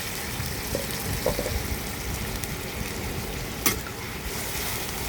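A tomato, ginger and green chili paste sizzles steadily in a pan as it is stirred, broadband frying hiss holding even throughout with a few soft scrapes and one sharper clink near the end, no voices.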